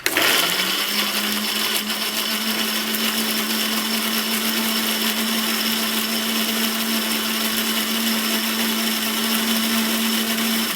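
A blender whirs loudly and continuously for about ten seconds, churning a homemade sugar scrub mixture at a steady high-pitched drone, close and uninterrupted.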